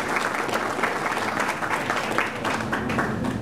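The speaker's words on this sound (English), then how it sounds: "Let's give her a warm round of applause." A conference audience claps in a dense, sustained round of applause welcoming a presenter to the stage, steady and moderately loud throughout with no break.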